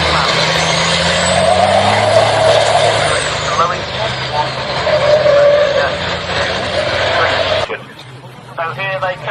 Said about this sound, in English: So here they come then, charging their way up towards the complex.